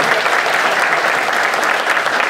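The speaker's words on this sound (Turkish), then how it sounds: "Bir alkışla Mete Murat Bey'e selam verin." A hall full of university students claps continuously and loudly in honor of a guest at a community meeting program, a steady wash of many hands without pause.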